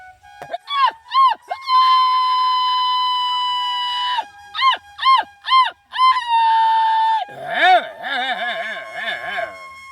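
A man imitates a jackal's howl with his voice, making long rising and falling wails broken by short yipping bursts. The calls are loud and close, with a wavering, siren-like chorus near the end.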